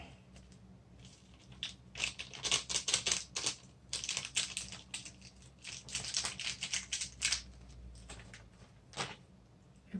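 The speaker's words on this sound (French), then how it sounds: "mélanger un petit peu pour que le fromage puisse prendre le goût" Instant noodles tossed with cheese powder in a small pot, heard as close, rapid clicking and tapping strokes in quick bursts, fairly quiet, with short pauses between them.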